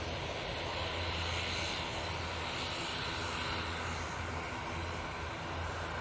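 An airplane departing Manchester Airport for the Isle of Man gives a steady, distant engine roar that stays even throughout, with no voices.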